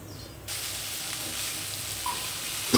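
Chukoi greens and chopped prawns fry in a pan, giving a steady close hiss and sizzle that grows louder after a brief scrape, with faint stirring sounds toward the end.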